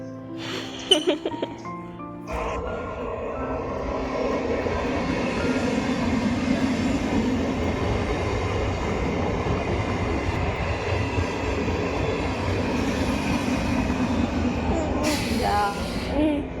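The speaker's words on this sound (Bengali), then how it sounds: "এখানে দাঁড়াও ট্রেন আসবে" A train rumbles loudly past at close range, with steady wheel clatter filling the scene until it tails off, after brief speech-like sounds at the start.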